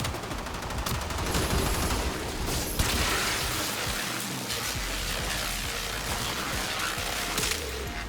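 The Amprex weapon firing in the video game Warframe, a continuous crackling, buzzing stream of rapid electric fire that runs dense and steady for several seconds with brief pauses.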